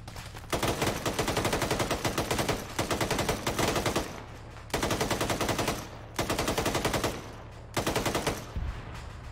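Machine gun fire in a video game comes in loud sustained bursts of rapid shots, about five long volleys separated by short pauses, with no voices.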